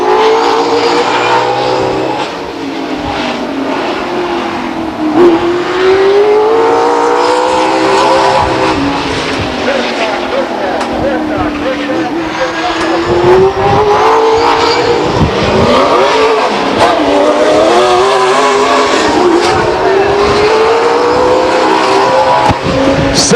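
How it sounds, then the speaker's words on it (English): Race cars roar around Stockton 99 Speedway in an SRL race, engines revving and droning loudly with rising and falling pitch as they pass, continuous throughout with occasional tire squeal. "On the racetrack in the 28 car from Ripon, John Galswhite."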